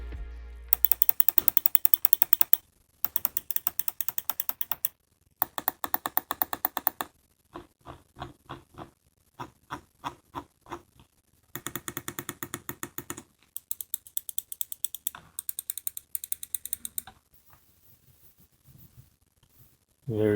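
A Logitech G309 gaming mouse clicks in close-up: long bursts of rapid, crisp repeated clicks separated by short pauses, with some slower, softer click runs between them, and no talking.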